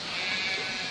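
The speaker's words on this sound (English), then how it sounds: "sheep agrees" A single sheep bleats close by in a woodland setting, a short steady wavering cry filling the whole moment with no talk over it.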